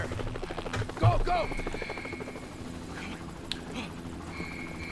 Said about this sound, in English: Mr. Duggan is being evacuated in a helicopter?